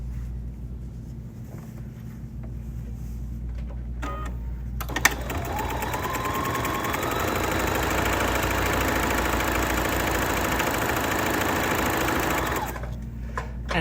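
A sewing machine stitches the bottom seam of a fabric wall bucket, its motor whirring up from a low idle into a steady, close, even hum that runs for several seconds before stopping.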